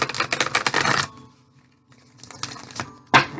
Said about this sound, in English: I pre-shuffle all the decks before I get on camera, so we're going to shuffle again.